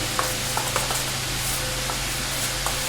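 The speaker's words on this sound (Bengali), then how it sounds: "সুন্দর করে মিশিয়ে নেব সমস্ত মশলা একসঙ্গে" Kashmiri chili and spices are mixed into a ground lentil paste, with soft, irregular scrapes and light ticks of a spoon under a quiet, steady background hum.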